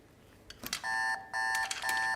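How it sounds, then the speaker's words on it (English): An alarm gives a loud, close, steady electronic beep tone in three sustained bursts separated by short gaps, with a few clicks and knocks just before it starts. "Where's the alarm?"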